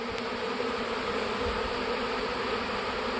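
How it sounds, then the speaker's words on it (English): Honeybee swarm fanning at the entrance of a hive they are moving into, a dense continuous buzzing hum, close and steady throughout. "They're moving into this hive. See how they're fanning the front of that?"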